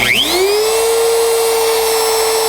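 A Bosch Colt GKF125CEN palm router spins up from a slow start to a steady high whine, holding one loud, even tone up close with no talking.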